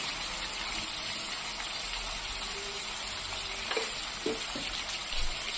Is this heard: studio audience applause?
no